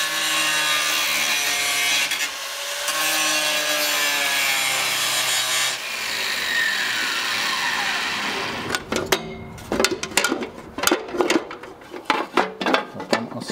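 The end of a part being filed down by hand during an engine rebuild on a Tatra 148 truck, a loud steady rasping that shifts into short, rhythmic back-and-forth strokes, close up with no talk.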